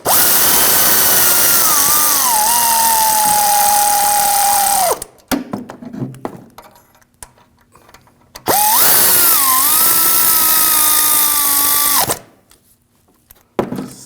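Power tool tightening the rear driveshaft coupler bolts on a 2007-2013 BMW 328i 3.0L, two loud close whirring bursts of about five and four seconds each, pitch dipping as each bolt snugs down, with quiet clanking between.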